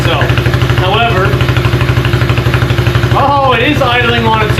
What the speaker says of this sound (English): oh, it is idling on its own